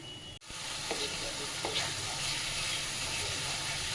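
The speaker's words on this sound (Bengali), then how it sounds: "আমি এবারে দিচ্ছি একটা বড় গোটা টমেটো পেস্ট করা।" Puréed whole tomato sizzles steadily in a hot pan of spices for a Bengali snakehead (shol) fish curry, a continuous close hiss after a brief dropout, with a few faint stirring taps.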